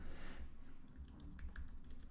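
Quiet, rapid typing on a computer keyboard, a steady patter of soft key clicks growing denser toward the end, with no one speaking.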